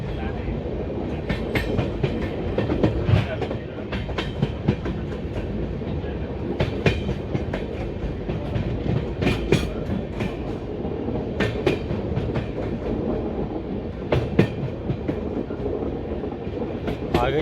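Indian Railways intercity express, the 18426 Durg–Puri, running behind its locomotive, heard as a loud continuous rumble with rhythmic clickety-clack of wheels over rail joints and occasional sharp metallic clanks throughout.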